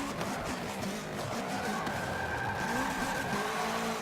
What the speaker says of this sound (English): So I might put on the handbrake a little bit